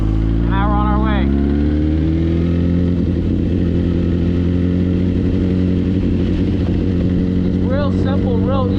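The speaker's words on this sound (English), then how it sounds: "slowly let go of the clutch, right? Let the bike roll, give it some gas." A sportbike motorcycle pulls away from a stop and rides on, its engine a steady loud drone that rises as it gets under way, with brief high tones near the start and end.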